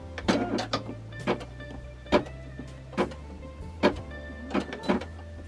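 An embroidery machine sews its first few stitches in short, rhythmic mechanical bursts, close and fairly loud with brief gaps between them.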